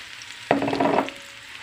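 A sudden burst of sizzling as cabbage hits a hot frying pan, crackling loudly for about half a second before settling into a softer fry.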